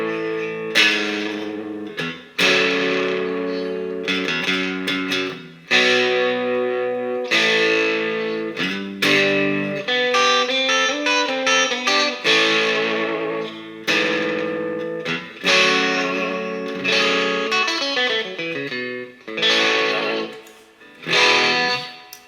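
A PRS SE CE 24 electric guitar is played through distortion, chorus and reverb with its tone knob rolled down, giving a muffled, darker sound of loud sustained chords and melodic runs that carry on without a break.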